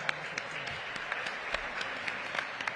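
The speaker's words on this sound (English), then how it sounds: "so let's clap it up for that" Scattered audience applause fills a budget engagement forum hosted by a city mayor, a steady wash of clapping with sharper individual claps standing out, moderately loud and continuous.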